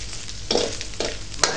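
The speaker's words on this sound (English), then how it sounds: "So you let it fry until it's golden brown" Pork sizzling and frying in the oil rendered from its own fat, a steady close crackle with a few sharper bursts of spatter and stirring, no talk.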